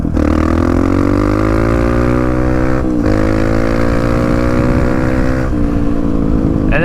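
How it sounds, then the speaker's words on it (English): Loud, close dirt bike engine revving hard, pitch climbing in sweeping bursts with brief dips between throttle blips, strong and continuous across the whole stretch. "If you have an older bike, you might have to give it a little bit more throttle"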